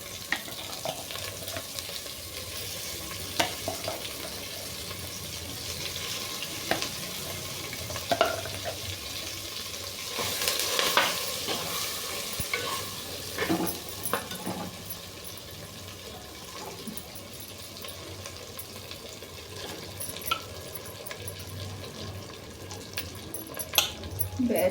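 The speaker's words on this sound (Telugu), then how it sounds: "క్యారెట్ పచ్చడి తాలింపులో వేసుకొని కలుపుకోవాలి." Grated carrot chutney is stirred into a hot tempering of oil and curry leaves, giving a steady low sizzle broken by scraping and stirring noises.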